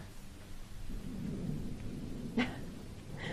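Thunder during a rainstorm rumbles low and steady, with one sharper crack partway through, heard alone at a moderate distance.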